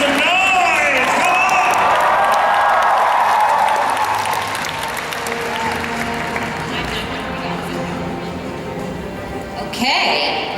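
A large cosplay convention audience at a championship stage event cheers, whoops and applauds loudly and steadily, a dense wall of crowd noise with an announcer's voice heard over it.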